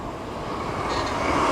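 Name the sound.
train passing overhead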